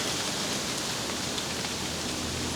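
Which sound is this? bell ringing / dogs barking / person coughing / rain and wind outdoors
rain and wind outdoors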